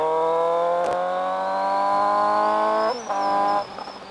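A loud, close 2018 Suzuki GSX-S750 motorcycle revving high through a RadiantCycle GP shorty exhaust with a raspy tone, pitch climbing steadily, then a quick throttle blip before it drops off.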